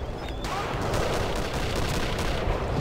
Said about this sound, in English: That guy was shooting you.